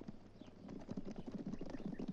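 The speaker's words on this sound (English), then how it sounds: "I hear horses." Horse hooves clip-clop steadily at a moderate distance, a rhythmic run of soft thuds that grows slightly louder over a couple of seconds.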